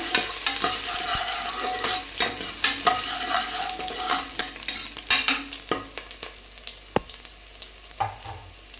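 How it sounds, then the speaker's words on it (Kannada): Garlic and chopped onion fry in hot oil for a ridge gourd sambar, a constant close sizzle punctuated by frequent sharp scrapes and clacks of a spoon stirring against the pan, with no speech. "ಇವಾಗ ಆಯಿಲ್ ಬಿಸಿ ಆದಮೇಲೆ ಬೆಳ್ಳುಳ್ಳಿ ಸೇರಿಸ್ತಾ ಇದ್ದೀನಿ. ಅದ್ರ ಜೊತೆಗೆ ಕಟ್ ಮಾಡಿರೋಂಥ ಈರುಳ್ಳಿನೂ ಸೇರಿಸ್ತಾ ಇದ್ದೀನಿ."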